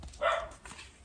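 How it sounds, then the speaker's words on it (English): A single dog bark sounds indoors, short and moderately loud, slightly muffled as if from another room, followed by a faint softer yip. "I apologize for my dog barking."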